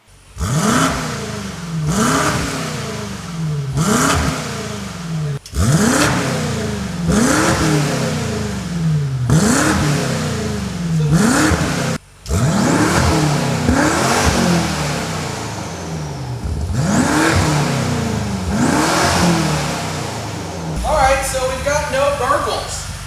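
A BMW M8 Competition with an Akrapovic cat-back exhaust and downpipes revs again and again, each blip climbing and falling in a loud, steady rhythm close up, with a short pause partway through and talk near the end.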